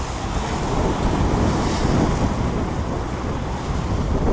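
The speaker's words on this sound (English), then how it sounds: "all of a sudden, a couple of rogue waves come in" Waves break and wash onto the shore at Ness Point, Lowestoft, a dense, constant roar of surf mixed with gusty wind buffeting the microphone, with no voices.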